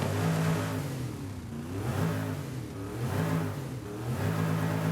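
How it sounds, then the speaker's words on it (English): A deep, throaty muscle car engine in a Forza video game roars, revving up and easing off three times in a rhythmic swell, loud and close with no talking. "I'll let you hear engine roar as well."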